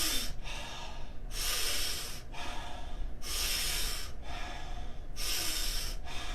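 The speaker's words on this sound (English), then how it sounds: "What we're going to be doing is taking about 30 to 50 power breaths into the body, ideally through the mouth." Rhythmic power breathing through the mouth during a kundalini breath-work session, a run of loud, breathy inhales and exhales pulsing steadily about once per second, close and with no talk.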